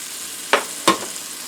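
A mac and cheese pancake with hotdogs fries in a pan with a constant close sizzle, broken by two quick scraping stirs.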